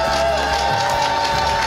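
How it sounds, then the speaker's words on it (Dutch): A crowd at a charity cycling event in the Alpe d'Huez setting cheers and applauds in a loud, continuous burst, with a sustained tone running underneath. "Ik wil minimaal een gigantisch applaus voor"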